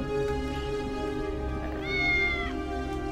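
A cat meows once in the Tales of the Neon Sea video game, a clear rising and then falling cry midway, set over a steady background music bed.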